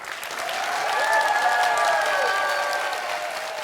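Steady audience applause with some cheering for both teams at the close of a high school quiz show, a dense even clatter of clapping from the studio crowd that swells slightly and holds for a few seconds.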